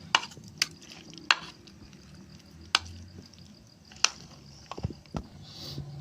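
A spoon stirs chana chaat ingredients in a bowl, with salt just added: a handful of sharp clinks and scrapes at irregular intervals, fairly close, over quiet background with no talk.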